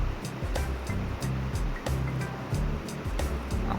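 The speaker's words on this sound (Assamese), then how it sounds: "এতিয়া মই 5 মিনিট ফ্ৰাই কৰি ল'ম এইখিনি।" Oil sizzles and crackles steadily in a hot tawa pan as ingredients fry for an idli chutney, a continuous close hiss with repeated small pops throughout.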